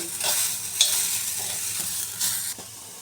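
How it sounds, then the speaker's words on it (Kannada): Vegetable pods spread across a flat griddle pan are roasted and stirred, giving a steady dry sizzle with scraping strokes and a few sharper clatters near the start and end. "ಹೆಂಚು ತುಂಬ ಅಂದ್ರೆ ತವೆ ತುಂಬ ಹರಡ್ಕೊಂಡು ಹುರ್ಕೋಬೇಕು ಇವನ್ನ"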